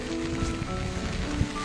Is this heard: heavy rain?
yes